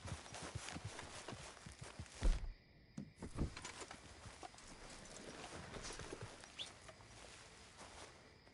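Horse hooves clip-clopping in a video game, a quick run of close hoofbeats with a brief dip in the middle before the plodding resumes steadily to the end.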